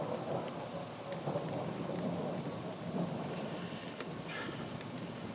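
A severe thunderstorm in northern Van Buren County, Michigan brings steady heavy rain with low thunder rumbling beneath it, continuous and close, no one talking.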